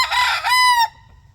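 A backyard rooster gives one loud, close crow that rises and then holds a long, strained final note before cutting off, followed by quiet.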